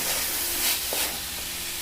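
Chicken pieces sizzling in a pan with onions while being stirred for a Tamil-style pichi potta chicken varuval. Steady, close frying hiss with faint scraping, and no voices.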